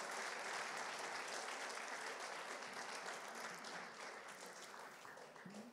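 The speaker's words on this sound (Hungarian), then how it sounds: "Köszöntjük őket is egy nagy tapssal" A church worship-night audience applauds loudly and steadily to welcome a visiting family, a dense continuous clapping that fades slightly toward the end.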